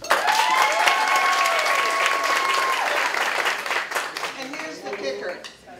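Audience applause at a talk swells loud and steady for several seconds, with cheers and whoops mixed in, then thins toward the end as a few voices talk over the fading claps.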